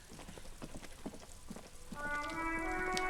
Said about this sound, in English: raining again. It was clear just an hour ago.